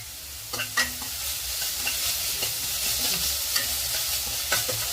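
Onion masala with salt sautéing in a pan: a continuous sizzle under repeated scraping and clattering stirring strokes, close and fairly quiet, with no voices.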